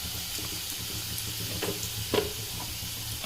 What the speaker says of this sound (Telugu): వేగిపోయిన తర్వాత ఉల్లిపాయలు పచ్చిమిర్చి అన్నీ వేగాయి కదా